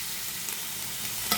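Ingredients frying in oil for French tacos while being stirred, a steady close sizzle with soft scraping bursts and a sharper stir near the end, no voices.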